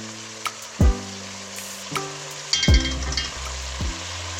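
Pork belly with dark soy sauce sizzling in a pan for five-spice pork belly, a soft steady hiss punctuated by a few sharp low thumps and clatters of pan or utensil, close with no talk.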